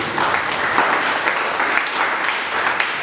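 A church congregation applauds in a sustained burst of dense clapping from many hands, loud and full, continuing steadily across the whole stretch.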